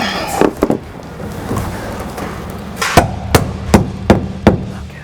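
Plastic push rivets are knocked into a Ram ProMaster van's ceiling liner panel. A few sharp taps come first, then a quick run of five crisp, hollow knocks, all close and loud.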